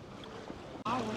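Boat cruising on the sea near mangroves in the Phi Phi Islands, a steady engine and water rush at close range that briefly cuts out, then returns louder.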